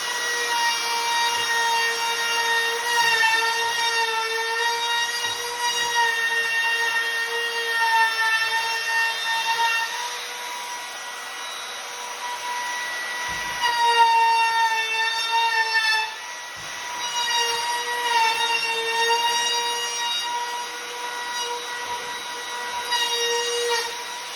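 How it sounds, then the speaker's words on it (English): A router trims the edges of a wooden piece for a house mudroom build, a steady high-pitched whining drone with strong harmonic tones that runs continuously and loudly close by, dipping briefly a few times. "let's router the edges and then see if it sets into place"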